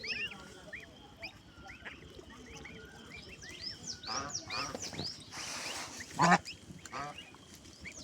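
Geese honk alongside the high, rapid peeping of goslings in a busy, overlapping chorus close by, with one louder honk standing out partway through.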